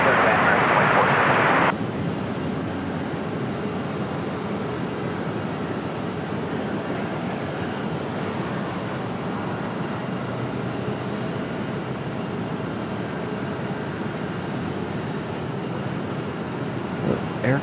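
An Air Canada airliner departs from Raleigh-Durham airport, its engines giving a loud, continuous broadband roar that holds steady throughout after a brief brighter burst at the start.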